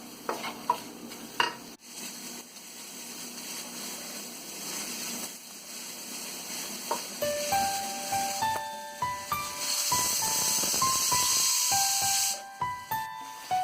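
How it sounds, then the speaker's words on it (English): Onions sizzle and crackle in a hot pan without oil while a utensil stirs and scrapes them, with soft clinks throughout. "While onion is frying"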